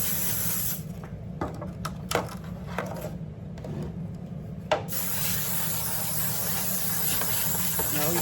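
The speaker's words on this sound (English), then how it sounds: "When you spray it, you gotta spray it all around." Buttery flavor cooking spray hisses into a cake pan for tomato soup cake, a steady close aerosol spray with brief interruptions, then one long continuous burst.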